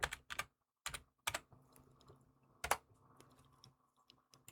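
Quiet keystrokes on a computer keyboard come in short bursts of a few clicks, with gaps between them, as a property name is typed into a note-taking app window; no one speaks.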